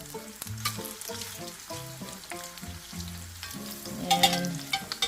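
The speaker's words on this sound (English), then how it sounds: "Nice sizzle." Food sizzles in a frying pan while lunch cooks, a steady crackling hiss with occasional stirring and clinks, heard close and on its own without talk over it, with tonal background music playing underneath.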